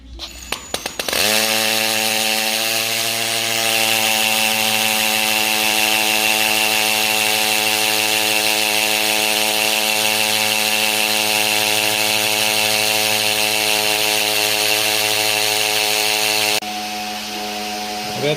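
A power tool whines loud and steady for about fifteen seconds while setting channels for a Pergo laminate transition strip, then stops abruptly, leaving a quieter hum.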